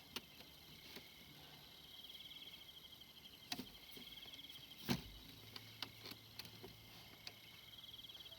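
Crickets chirp faintly through a quiet night outdoors in the countryside, a thin steady insect buzz with occasional soft ticks and rustles, distant and low in level.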